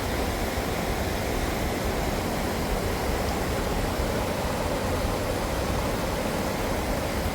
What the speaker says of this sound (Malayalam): വെള്ളം ഇങ്ങനെ ഒലിച്ച് താഴോട്ട് പോകുന്നു.